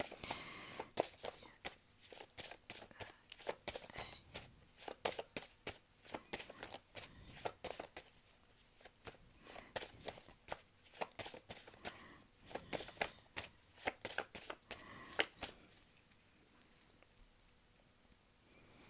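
Tarot cards are shuffled by hand in quick, uneven bursts of crisp riffling and flicking, close up and fairly quiet, continuing for many seconds with brief pauses between bursts.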